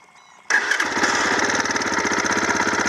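A fuel-injected Lifan Xpect motorcycle engine cranks and catches after a short quiet moment, then settles into a steady, close, buzzing idle.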